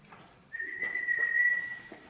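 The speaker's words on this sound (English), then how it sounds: "The girl whistles." A girl on stage in a school theatre production of Romeo and Juliet whistles a single steady, clear note lasting about a second and a half, alone and fairly faint.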